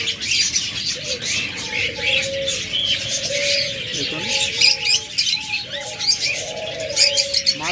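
Cage birds at a bird shop, among them lovebirds, cockatiels and budgerigars, keep up a busy mix of close chirps, tweets and repeated short calls, with a voice speaking now and then.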